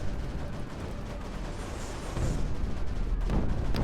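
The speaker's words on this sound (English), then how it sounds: "There's a lot of explosions happening constantly." Continuous dense rumbling of mortar explosions and blasts in Creeper World 4, overlapping heavily with deep booms growing louder toward the end, no voices.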